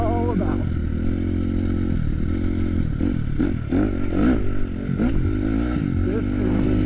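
A motocross dirt bike rides on dirt near Las Vegas at sunset, its engine droning steadily with revving swells and rattling clatter, close and loud throughout.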